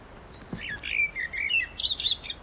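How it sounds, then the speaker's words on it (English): A blackbird sings alone outdoors, a run of clear, fluting whistled phrases rising and falling in short bursts, fairly close and unobscured by voices. "Blackbird."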